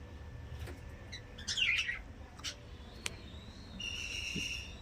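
Pet parrots and budgies, including pairs of cockatiels, chirp and whistle in a cage, with scattered short tweets and a sustained warbling call toward the end, soft and fairly close.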